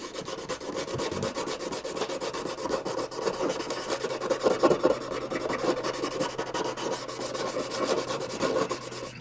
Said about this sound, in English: Use my old sanding stick here.